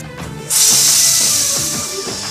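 A sudden loud hiss of steam bursts out of a pressure cooker and keeps rushing steadily, fading only slightly, with faint clinks underneath.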